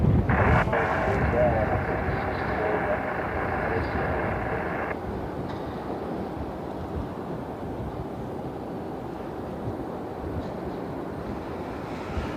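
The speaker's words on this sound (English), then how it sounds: "Now we got a Challenger inbound." A Challenger business jet arriving at Cleveland airport, its engines roaring steadily, a high whine easing off after a few seconds, while wind buffets the microphone throughout.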